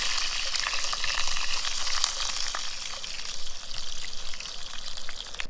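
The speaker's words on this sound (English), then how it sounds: "We'll see if we get any sizzle." Frozen chips frying in a hot pan, a dense continuous sizzle and crackle, close and fairly loud, with no talking.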